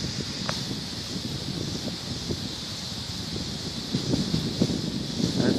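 Gusty wind blowing steadily during a Kansas thunderstorm, a continuous broadband roar with rustling bursts and buffeting against the microphone that swells louder toward the end.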